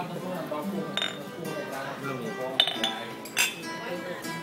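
Glasses clink in a birthday toast at a family restaurant meal, with several sharp bright chimes scattered among cheerful overlapping chatter and clattering tableware.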